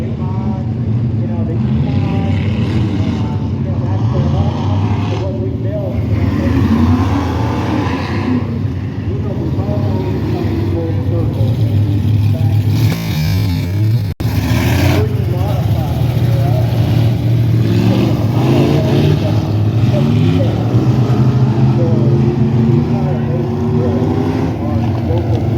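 A dirt track race car on a warm-up lap, its engine a steady loud roar throughout, with people talking over it nearby.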